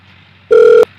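A single steady electronic telephone tone, loud and close, lasting about a third of a second over low background hum, with no speech.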